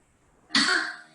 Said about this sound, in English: put your index finger at your belly button and do a cough.